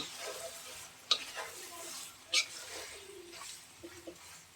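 Beef fat renders in a pan with a faint, steady sizzle, and a few brief scraping stirs and clicks rise above it, fairly quiet and close, with no speech.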